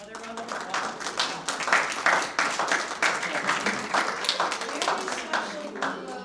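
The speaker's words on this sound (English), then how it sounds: "Another round of applause" Applause from the audience at a school ceremony honoring an outstanding student of the month, steady moderate clapping from a small crowd lasting several seconds, with some talking mixed in underneath.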